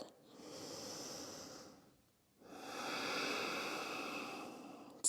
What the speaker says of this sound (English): Take some breaths here. Re-slow the breath.